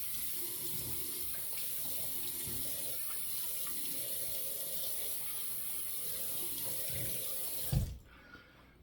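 A bathroom tap runs steadily into a sink to wet the face before a shave, a close, continuous hiss of water that stops abruptly near the end, leaving a quiet room.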